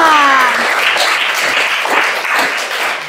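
Applause from a classroom of students, dense clapping that fills the whole stretch at steady loudness, with a voice trailing off at the very start.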